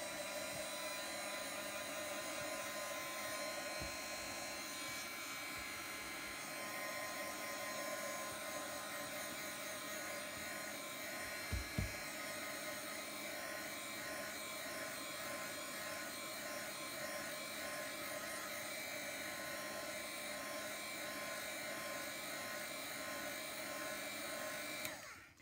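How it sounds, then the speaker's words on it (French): A heat gun blowing hot air for scrapbooking work, a continuous steady whirring hiss close by, with a couple of faint knocks partway through and a cutoff at the end. "Un petit coup de heat gun."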